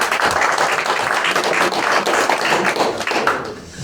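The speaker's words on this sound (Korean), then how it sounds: "우리 박수는 한 번에 몰아서 칩시다" A church congregation claps together at a Korean mission forum, a dense, loud, continuous burst of hand claps filling the room for several seconds with no voices over it.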